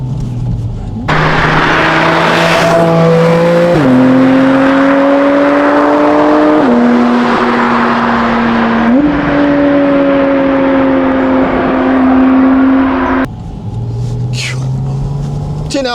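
A Porsche Spyder RS engine drones and rises through gear changes while driving with the soft top down, steady loud hum stepping up and down in pitch, with wind noise and a voice talking over it.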